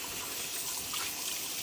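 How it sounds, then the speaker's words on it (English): Tap water runs steadily in a sink while seeds are washed out of opened poblano peppers, a constant close hiss and splash with no talk. "I open them and just wash away the seeds"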